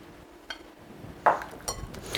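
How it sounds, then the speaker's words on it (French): Eggs being mixed with flour in a bowl for a savory pea and bacon cake, heard as a few separate light clinks and taps of a utensil against the bowl over a quiet background. "On mélange les œufs avec la farine."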